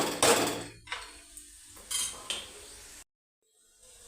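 Spices being stirred in a cooking pot for an egg curry: a few scraping, clinking strokes of a spoon against metal, moderately close, then a brief silence.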